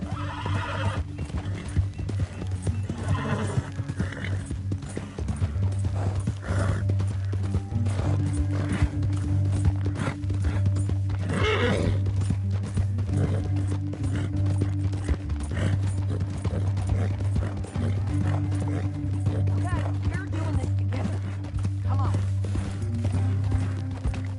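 Horse hooves clip-clop steadily over a low mechanical hum in the video game Red Dead Redemption II, with a horse neighing now and then and faint voices in the background.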